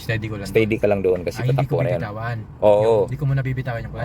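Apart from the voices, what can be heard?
No distinct noise like a dog, phone or traffic.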